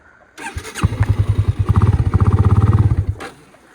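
A motorcycle engine revs unevenly, sputtering and pulsing in rough bursts before cutting out, close and loud.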